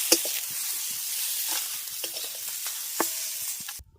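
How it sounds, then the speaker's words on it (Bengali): Okra frying lightly in hot oil, a steady broadband sizzle running throughout with scattered small pops and occasional spatula scrapes, close and fairly loud, ending abruptly near the end. "হালকা করে ভেজে নেব ঢেঁড়সগুলোকে"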